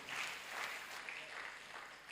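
Congregation at a church worship service claps for Jesus, a soft, diffuse spread of hand clapping that rises and falls gently, heard faint and somewhat distant throughout.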